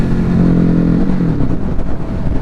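A 2021 Ducati 950 Hypermotard engine revs on a dyno, loud and close, its droning pitch holding steady then dropping away into a rougher, lumpy idle.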